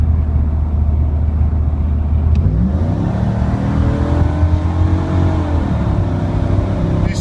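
A 1994 Pontiac Firebird Trans Am engine drones steadily as the car pulls away, its pitch rising as it accelerates and easing between gear shifts, loud and close with road and cabin rumble throughout.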